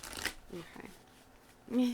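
A deck of oracle cards is shuffled in a few quick riffling bursts, close and soft, with brief pauses between.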